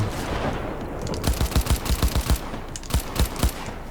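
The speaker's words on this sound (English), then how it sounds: "I do of course have my projectile launch system. Kaboom!" Rapid explosive gunfire-like bursts from a projectile launcher in the video game Cyberpunk 2077, a series of punchy booms in two quick volleys over a dense background of game noise, no talking.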